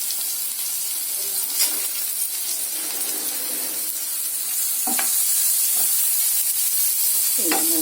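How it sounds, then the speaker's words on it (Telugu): Tomato curry ingredients frying in a hot pan, a steady close sizzle with occasional scraping stirs and a few sharp clinks of the spoon against the pan, no voices. "ఇవన్నీ మంచిగా ఫ్రై అవ్వాలి"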